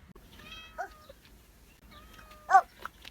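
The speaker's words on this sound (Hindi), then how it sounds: "पता है ये क्यों म्याऊं म्याऊं कर रही है?" A cat meows two or three times, drawn-out and plaintive, close by in a quiet space with faint background noise.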